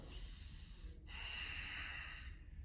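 Deep breathing during a yoga session: a single slow, airy inhale and exhale through the nose, close and quiet, with a brief pause between breaths.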